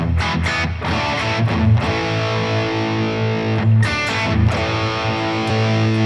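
Heavily overdriven chords from a 1977 Ibanez Les Paul copy with DiMarzio Super Distortion pickups on an amp's crunch channel ring out with a gritty crunch tone, sustained and loud with a few restrikes, no voices.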